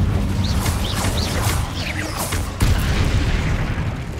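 A fiery Incendio spell is cast in the Hogwarts Legacy video game, giving a dense, rumbling whoosh with repeated crackling bursts and a sharp impact partway through, loud and steady with no talking.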